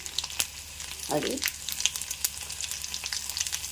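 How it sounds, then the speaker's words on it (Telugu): Onions and green chillies frying in a pan for a brinjal curry crackle and sizzle steadily at close range, with a brief spoken word in the middle. "ఉల్లిపాయలు వేసేస్తున్నాను. ఉల్లిపాయ పచ్చిమిరకాయలు వేసేసాను."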